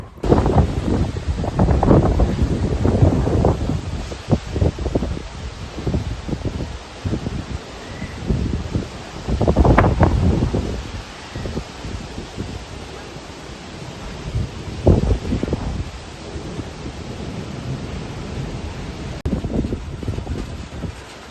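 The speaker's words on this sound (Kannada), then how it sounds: "ನ್ಯಾಚುರಲ್ ಆಗಿ ಸೌಂಡ್ ಯಾವ ಥರ ಇರ್ತೈತಿ ಗಾಳಿದು ಅಂತೇಳಿ ತೋರಿಸ್ತೇನೆ ನೋಡ್ರಿ" Strong wind gusts blow outside during a storm just before heavy rain, a broad rushing roar that swells and fades in repeated waves over steady background noise, with no voices.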